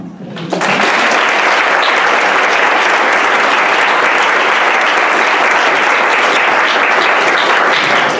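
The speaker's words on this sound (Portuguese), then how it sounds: "vamos agradecer uma salva de palmas para ele" After a lecture on exercise and mitochondria, the audience breaks into sudden, loud and sustained applause that begins abruptly and holds at full intensity for several seconds.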